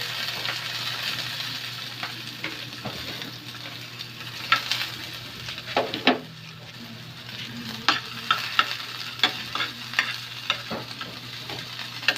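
Food fries and is stirred in a pan in a home kitchen, with a constant sizzle under repeated clinks and scrapes of a utensil against the pan that come in irregular bursts, close and fairly loud, and nobody talking.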